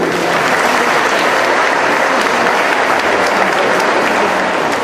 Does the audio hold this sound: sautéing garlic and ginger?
no